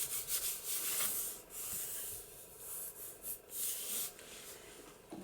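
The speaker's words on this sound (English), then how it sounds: "Let's just burnish that down." Paper is burnished down onto an altered book cover with quick rubbing strokes, a dry scratchy swishing that comes in uneven bursts, close and alone with no talk.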